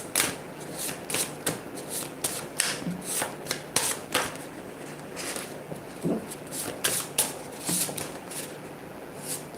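Tarot cards being shuffled in quick, crisp riffling bursts that repeat steadily for several seconds at close range, with no voices.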